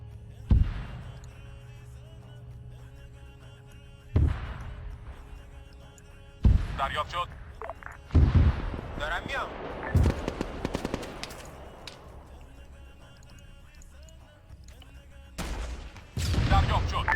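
Artillery fire mission in the military video game Helicarrier Assault: several loud, spaced booming impacts land a few seconds apart, some followed by crackling rolls of rapid fire, with voices talking in between.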